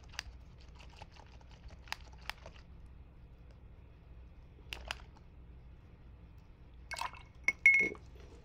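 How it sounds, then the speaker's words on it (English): A paintbrush being rinsed in a water cup during acrylic painting: faint, sparse taps, clinks and small sloshes spread across the clip, with a short burst of swishing near the end, all quiet and close. "And I'm gonna wash my brush again."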